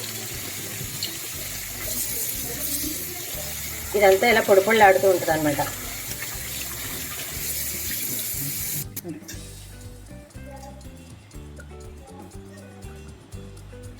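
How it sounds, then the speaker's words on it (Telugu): Cold water is poured over dry semiya (vermicelli) for upma, a running splash and trickle at a kitchen sink that swells briefly mid-clip, with someone talking over it throughout. "ఇప్పుడు చన్నీళ్ళు పోసుకుందాం దీంట్లో ముద్ద కట్టకుండా ఉంటుంది"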